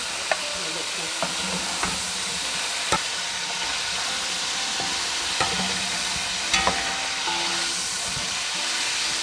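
Quail (batair) frying in a pan of hot oil, a continuous hiss and sizzle with occasional sharp clicks and pops from utensils scattered throughout.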